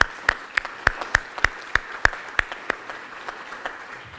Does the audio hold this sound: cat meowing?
no